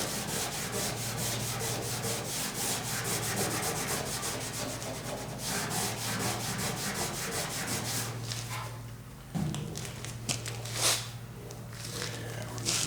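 Steady, continuous rubbing and scraping of sanding across a truck cab corner body panel, loud and close, with a low electrical hum underneath and a few brief knocks near the end.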